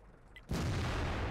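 A tank cannon fires once in World of Tanks, a single sudden loud boom after a quiet lead-in, followed by a sustained rumbling roar that does not fade before the end.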